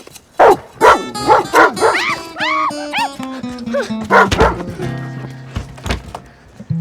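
A dog barks and yips repeatedly in a loud, close, irregular burst, with whimpering tones between the barks and an occasional thump.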